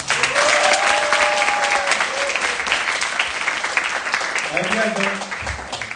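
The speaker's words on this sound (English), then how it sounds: "Could we please get a round of applause for Gia?" Audience at a university progressive student union event breaks into sustained applause and clapping, with some voices and cheers mixed in toward the end.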